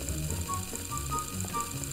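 Wizard Penguin animatronic in the Garry's Mod video game giving off wind-up mechanical clicking and whirring, a steady looping ratchet-like rattle at moderate level, no talk.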